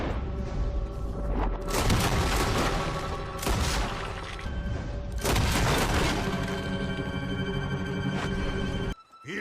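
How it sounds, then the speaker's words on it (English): Gunshots ring out in a Rockstar video game, several loud booming reports with long echoing tails over dense, continuous background noise, ending in a sudden cutoff. "So after you track them down, you shoot them. Like with a gun."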